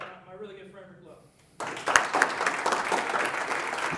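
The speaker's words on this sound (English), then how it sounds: "please put your hands together and welcome my really good friend, Rick Love." A speaking presentation: a voice talks briefly, then a live audience bursts into loud, sustained applause and clapping that fills the room and holds steady to the end.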